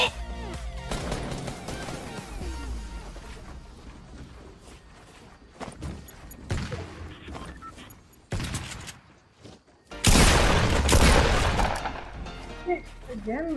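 Dense, rapid gunfire from the Fortnite battle royale game, loud bursts and volleys over game sounds, with a player talking excitedly between and over the shots.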